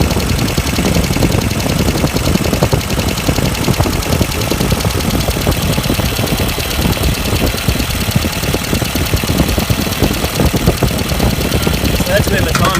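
A 1994 Ford Econovan engine idles steadily after its ignition points were replaced and set, a loud, continuous close-up rumble with an even mechanical ticking throughout, a voice talking over it at times.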